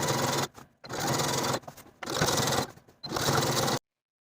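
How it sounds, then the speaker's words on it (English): Sewing machine edge stitching a dress hem, close and clear, running in four steady whirring bursts with short pauses between them before stopping. "Edge stitch close to that inner upper fold all the way around the bottom of the dress."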